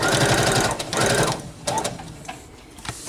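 A sewing machine stitches a towel topper with black thread. Its loud, close, rapid mechanical whirring runs in bursts with brief slowdowns.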